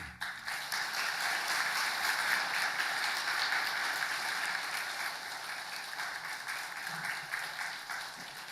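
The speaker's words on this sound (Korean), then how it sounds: "나오실 때 감사와 한정의 박수를 하겠습니다" A congregation applauds steadily for several seconds at a Sunday church service, a dense wash of clapping that stays even before tapering slightly toward the end.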